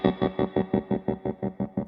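A guitar through a Stone Deaf Tremotron analog tremolo pedal set to sine wave modulation pulses in about ten even, rhythmic swells, clear and close with no talk.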